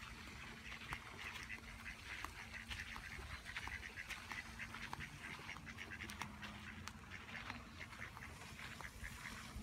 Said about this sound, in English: There's the mom and the baby ducks again.